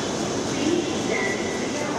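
A northbound metro train pulls into Karwan Bazar station in Dhaka with a steady, even rumble of wheels and motors that holds constant for the whole moment, with no distinct horn or braking squeal.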